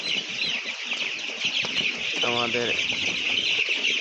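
Three-day-old chicks on a poultry farm at night peep in a dense, continuous, high chorus. Someone briefly talks over them.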